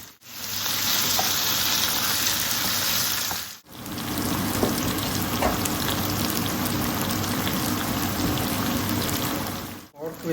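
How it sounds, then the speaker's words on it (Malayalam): Pork vindaloo fries with a spoonful of pepper powder in a pan, a loud, dense, continuous sizzle broken by two brief cuts, close by with no one talking. "1 സ്പൂൺ കുരുമുളക് പൊടി കൂടി ഇട്ടിട്ടാണ് നമ്മൾ നന്നായിട്ട് വറുത്തെടുക്കുന്നത്"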